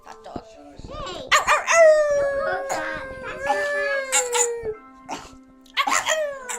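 A dog lets out a loud, close howl that bends and falls over several seconds, preceded by short barks and followed by another burst of vocalizing.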